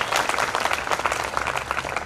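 Audience clapping during a public speech about a river, a short burst of many hands applauding together at moderate distance, with no voices over it.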